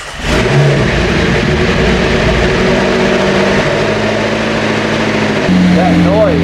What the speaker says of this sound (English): It sounds like the lifters are not being lubricated properly.